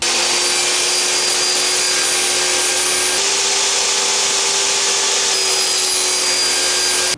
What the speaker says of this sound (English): I've got my crosscut sled set up, and I'm going to trim up one edge flat and do the other edge at an angle